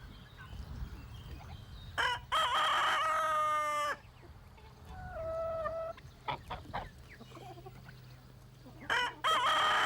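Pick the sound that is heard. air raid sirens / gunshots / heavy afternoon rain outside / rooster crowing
rooster crowing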